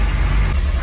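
A Triumph TR7 engine runs steadily at raised revs while warming up, a loud, close, continuous low rumble.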